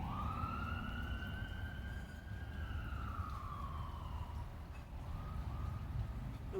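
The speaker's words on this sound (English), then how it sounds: "With the sirens and everything going on." Faint emergency vehicle sirens wail from far off, one long rising and falling tone drifting over a low outdoor rumble of distant traffic, quiet and continuous with no one talking.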